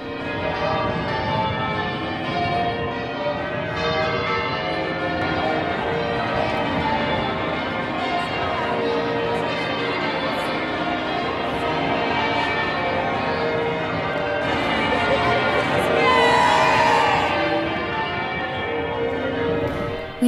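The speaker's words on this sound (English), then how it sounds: "We were incredibly lucky to be there just as the bells were pealing" St Paul's Cathedral bells on Ludgate Hill in the City of London peal continuously at the end of an annual commemoration service, a steady, dense ringing that swells slightly near the end.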